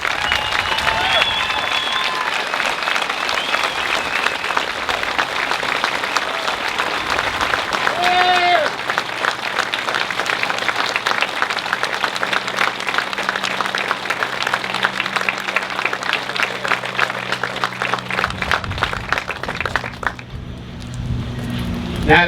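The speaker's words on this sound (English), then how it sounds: "please stand up and give them a round of applause" An outdoor audience at a responders memorial park ceremony claps in sustained applause, a dense steady patter lasting about twenty seconds before fading, with a few voices beneath.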